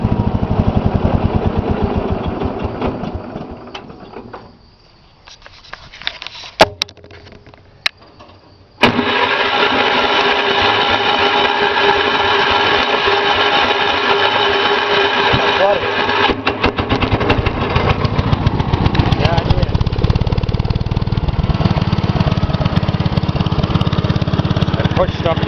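A Kohler cast iron engine on a Gravely 810 tractor sputters and cuts low, then catches and settles into a loud, steady running drone close by, while someone talks over it.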